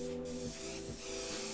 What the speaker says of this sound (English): Airbrushing is not like spray painting where there's a bunch of stuff in the air